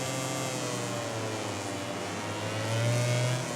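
A motorcycle engine in the MotoGP 18 racing game, a loud continuous drone that shifts pitch as the bike engine-brakes down through the gears into corners.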